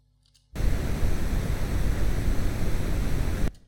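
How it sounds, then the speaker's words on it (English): Generated brown noise: a sudden onset of dense, steady, low-weighted rumbling hiss, loud and uniform for about three seconds, then an abrupt cut back to near silence. "Let's generate some brown noise."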